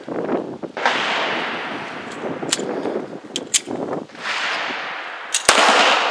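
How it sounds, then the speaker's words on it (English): Handgun shots at an outdoor defensive handgun shooting drill: a few sharp, separate cracks stand out against a steady, noisy roar that runs through the whole stretch. "Fire one round."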